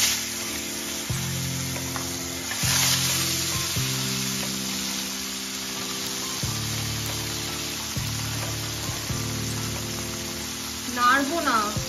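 Paneer pieces dropped into hot oil in a pan set off a sudden burst of sizzling that settles into a steady fry, with a low hum beneath and a faint clatter near the end.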